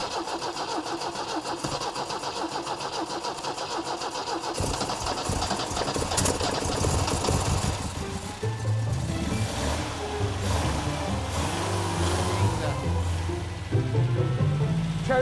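A 1969 MG MGC Roadster's engine cranks with a steady starter whir for several seconds, then catches and runs roughly, revving unevenly and settling into a throbbing idle close by.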